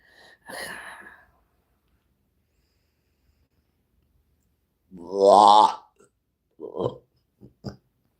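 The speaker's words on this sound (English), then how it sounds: "Beauty burps." A single drawn-out, close burp rises and falls in pitch after a short sneeze-like burst and a long silence, followed by a few brief throaty sounds.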